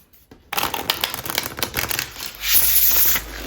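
Tarot cards being shuffled up close, a rapid riffling flutter that starts abruptly after a brief quiet moment and continues with a hissy texture.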